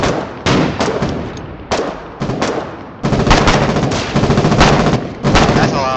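Machine guns firing in the war game Foxhole: loud, rapid bursts of automatic gunfire that come in repeated clusters with short pauses between them, close and dominant throughout.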